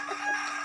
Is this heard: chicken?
yes